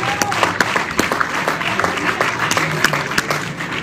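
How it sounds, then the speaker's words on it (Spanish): A church congregation claps for the King during worship, a moderately loud stretch of crowd applause with distinct individual claps and voices mixed in. "Vamos a dar una ofrenda, aplauso al Rey"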